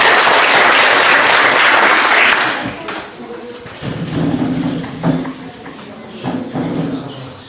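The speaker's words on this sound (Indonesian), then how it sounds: "Berikan aplaus buat kelompok 1." A classroom group claps for a student team presenting, a brief burst of applause that fades after a couple of seconds, followed by a student voice beginning to talk.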